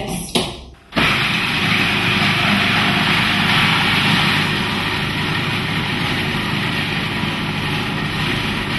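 A food processor whirs into a quick burst, blending a sauce thinned with water; after a brief start-up it runs as a loud, steady, close motor roar with churning noise to the end.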